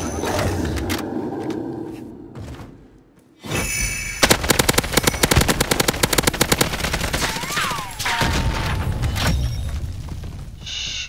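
Rapid automatic gunfire from a video game battle royale match on the Caldera map, loud and close, with sustained bursts and repeated rattling shots after a short lull, with faint game sounds in between.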